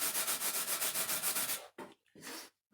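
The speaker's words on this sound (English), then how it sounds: "I should be wearing a mask because I'm sanding polyurethane" Sandpaper rubs back and forth over a polyurethane finish in steady, evenly spaced strokes, close and loud, then breaks into a few short scrapes separated by pauses.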